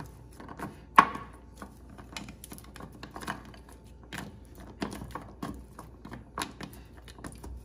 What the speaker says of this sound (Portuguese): Ó, eu vou terminar de misturar todos eles.